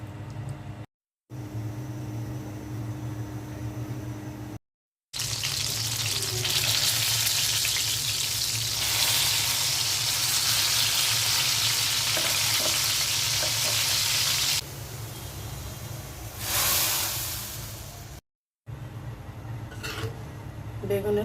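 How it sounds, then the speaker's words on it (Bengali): Water poured into a hot pan after making okra bharta, setting off a loud, close sizzle and frying hiss that swells and fades in bursts with brief silent breaks. "পানি দিয়ে দিচ্ছি।"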